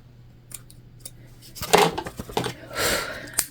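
Scissors snip threads on a newly sewn handbag, a few close, sharp cuts scattered across the moment, with faint handling noise between them and no talk.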